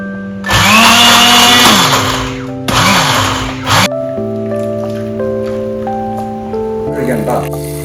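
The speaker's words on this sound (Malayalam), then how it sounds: "നമുക്ക് തേങ്ങ പാൽ അടിച്ചെടുക്കാം." A blender grinds coconut to extract coconut milk for a simple chicken curry, whirring loudly in two separate bursts with music playing in the background.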